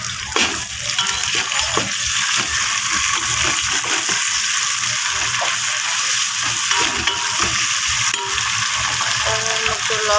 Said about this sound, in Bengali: এই যে আমি আদা রসুন বাটাটা দিয়ে দিলাম